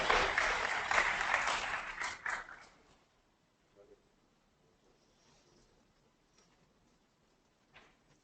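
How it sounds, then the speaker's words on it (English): Audience applause at a pre-budget seminar, a dense burst of clapping from a crowd that fills the first few seconds and then fades out, leaving a near-silent hall with faint scattered sounds. "please give it applause"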